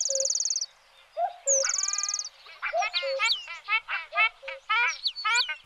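Ruddy shelducks (Tadorna ferruginea) give goose-like calls: two drawn-out nasal honks, then a rapid, chattering run of clipped calls, loud and close.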